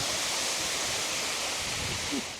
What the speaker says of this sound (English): You can see the water flying out of the tunnel, the wind.